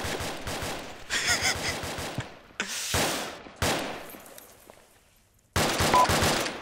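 Rapid automatic gunfire in a shooter video game, coming in several loud bursts separated by short pauses.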